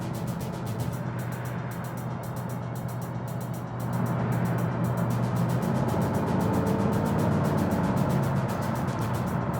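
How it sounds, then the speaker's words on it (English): Mercedes-Benz 500SEC AMG driven in third gear on frost-heaved roads, a steady engine drone with a faint high gear whine layered over road rumble, growing slightly louder partway through; no talking. "I'm in third gear, and a little bit of gear whine there that sounds racy"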